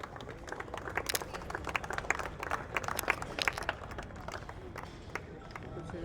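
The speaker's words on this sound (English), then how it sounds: "A round of applause to all the players, all the winners, please." Applause from an audience at a women's national tennis tournament prize distribution, dense scattered clapping that is moderately loud and fairly close, fading slightly toward the end.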